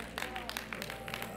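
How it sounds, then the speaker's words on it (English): Congregation applause at a celebration-of-life funeral service, honoring the choir and a soloist: a brief spread of scattered hand claps, moderately faint and roomy, with a low steady hum and some murmuring voices underneath. "Give them a hand clap of praise."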